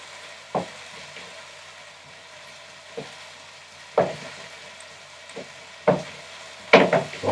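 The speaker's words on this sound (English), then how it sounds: "it's worth getting your hands in, giving it a good mix up" Food is mixed by hand in a bowl in a series of separate squelching, pressing pushes about a second apart, close and fairly loud in an otherwise quiet room.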